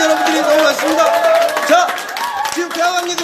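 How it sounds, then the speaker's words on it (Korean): At the opening ceremony of Ulsan's Taehwagang KTX station, a crowd of citizens cheers and claps steadily under a loud, close voice that talks throughout. "환호하는 우리 관중시민"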